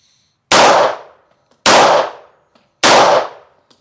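Three loud, close shots from a Lebedev pistol at a shooting range, spaced about a second apart, each a sharp crack that dies away quickly into quiet.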